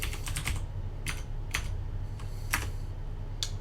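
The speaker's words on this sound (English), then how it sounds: "So if I type Chrome," Keys tapped on a computer keyboard while a command is typed at a Linux command line: a quick cluster of close clicks, then several separate keystrokes spaced out, all over a low steady hum.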